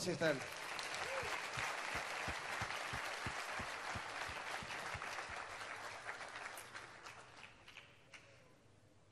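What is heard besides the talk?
applause for a speaker at a church event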